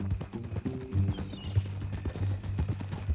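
A horse's hooves clip-clop in Red Dead Redemption 2, a close, uneven run of hoof strikes on the ground with a brief whinny-like sound mixed in. No one speaks.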